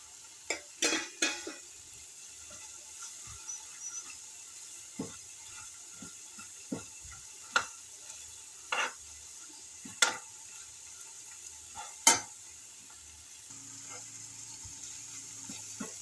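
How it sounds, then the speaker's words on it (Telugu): Sesame seeds fry in a drop of oil for a mint and coconut chutney, a faint, quiet sizzle punctuated by scattered sharp scrapes and taps of a spoon against the pan. "ఒక చుక్క ఆయిల్ వేద్దాము, కొంచెం ఫ్రై అవుతుంది కదా"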